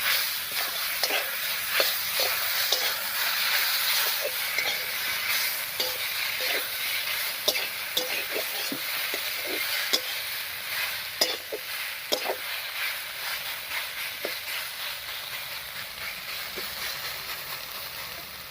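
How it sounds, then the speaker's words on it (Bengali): Masala with salt and turmeric being stirred in a frying pan, a steady hiss of frying under frequent scraping strokes of the spoon, close and continuous with no talk. "এবার খুব ভালো করে মিশিয়ে নেবো"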